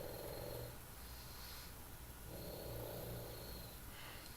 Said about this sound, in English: my little puggy is down here sleeping. He's snoring quite loudly today.